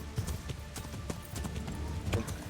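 Horse hooves in the medieval video game Kingdom Come Deliverance, a quiet run of clip-clopping hoofbeats with faint background sounds.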